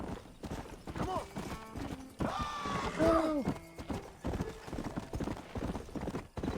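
Horse hooves clip-clop steadily through a Red Dead Redemption game scene, and a neigh or whinny rises around the middle, with game music and other in-game sounds underneath.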